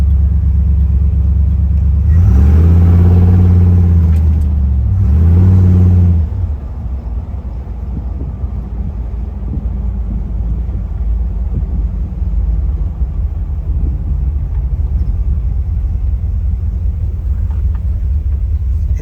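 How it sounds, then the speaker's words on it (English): A 1979 Ford Bronco's engine and fairly quiet exhaust run nearby: a heavy low rumble swells with two revs early on, then settles into a steady idling drone with no talking. "It's got, I'd say, fairly quiet exhaust."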